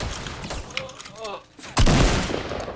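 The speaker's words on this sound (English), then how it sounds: "Oh, you're being shot from straight in front." Gunfire in the video game Fortnite, a burst of shots followed by a louder sustained volley near the end, with a voice speaking over parts of it.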